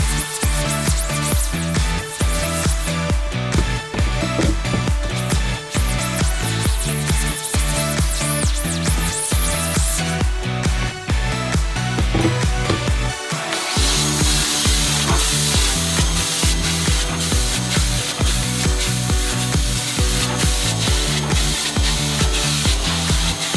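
A screen printing frame is scrubbed with ink wash and stain remover: a long stretch of rhythmic, loud, close brushing strokes, with the texture brightening partway through and no speech.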